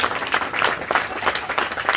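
An audience at a colony festival honouring ceremony applauds, a close, steady burst of many hands clapping together throughout.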